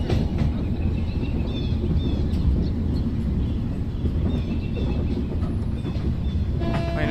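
A goods train pulled by a twin coupled Wagner locomotive pulls away from Raibareli Junction in Train Simulator, with a steady close rumble and clatter of wheels and wagons running on without pause.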